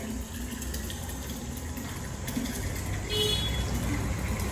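Filtered drinking water pours into a 20 litre can from a purified-water dispenser, a steady broadband rushing that stays continuous and fairly close, growing slightly louder near the end.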